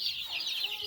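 Domestic chickens cluck in a short, busy burst, several hens calling close by and overlapping with no pause.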